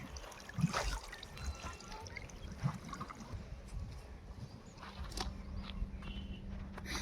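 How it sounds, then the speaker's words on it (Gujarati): Water trickles and splashes softly as onions are washed by hand in an irrigation channel on a cold day, with faint intermittent sloshing and low background rumble, no talking. "પહેલો ડુંગળી ધોવાનું ચાલુ હે ધોરિયામાં ડુંગળી ધોવે"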